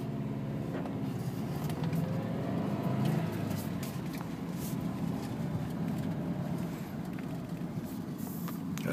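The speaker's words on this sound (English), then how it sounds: "There's a quick acceleration for you" A 2012 Subaru WRX Premium accelerates quickly, heard from inside as a rising engine tone that climbs through the gears against steady road noise.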